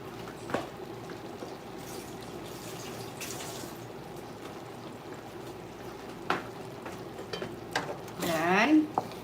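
Butter chicken being stirred in a pan, with a faint ongoing simmer and soft scraping strokes; a few clinks, then a brief louder scrape and voice near the end.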